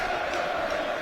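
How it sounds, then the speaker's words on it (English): Football fans cheering at a Wrexham AFC versus Forest Green Rovers match, massed in a far corner of the stadium: a distant, steady roar of crowd voices that holds as a broad wash throughout. "Cheering in the corner there."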